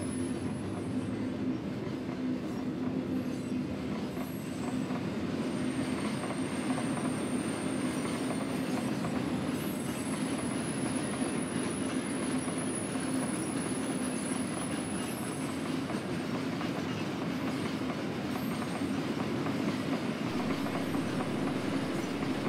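Freight train rolling past a waiting truck in the modded driving game American Truck Simulator, a steady rumble of wagons with rhythmic wheel clatter and a thin high squeal running above it.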